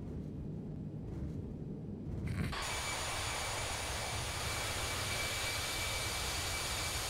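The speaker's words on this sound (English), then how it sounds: "You can hear those engines screaming for mercy." Jet engines of an Airbus A319 in a flight simulator on landing roll-out, a steady broadband roar that suddenly surges louder and stays high with a thin whine, with no voices.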